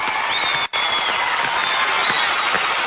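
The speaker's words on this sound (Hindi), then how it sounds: "बहुत बहुत तालियां।" Applause from a studio audience on a Hindi TV quiz show, a steady dense wash of clapping that fills the clip and drops out briefly for a moment before resuming.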